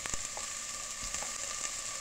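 Chopped onion and garlic hit hot oil for a lentil broth, a brief, close, crackling sizzle with a few small clicks of stirring.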